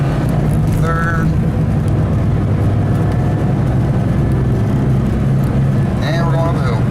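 A 1981 Volkswagen Rabbit's engine drones steadily as the car accelerates uphill, a continuous low rumble filling the cabin, with a brief whining tone near the start and end.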